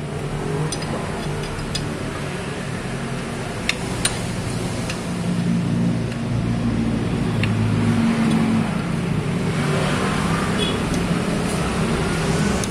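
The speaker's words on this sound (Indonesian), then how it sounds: "jalannya macet rame" Traffic rumbles along a busy, jammed road, a continuous engine drone with occasional ticks and clicks that swells slightly in the second half, with no talk.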